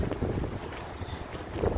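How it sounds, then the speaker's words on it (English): Wind buffets the microphone steadily at a lake on Long Island during a kayak outing, a continuous low rumbling gust noise with no voices. "It's a little breezy out today."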